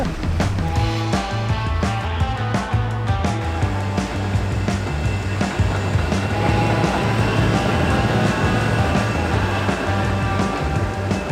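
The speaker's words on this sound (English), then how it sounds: "there's another train going overhead" The Wuppertal Schwebebahn suspended monorail passes overhead, a loud, sustained rumble with metallic rolling and tonal hum that stays steady and close throughout.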